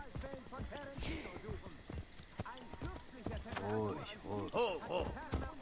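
Horse hooves clip-clop through a medieval street in Assassin's Creed Brotherhood, a steady galloping rhythm set among game crowd voices and background bustle.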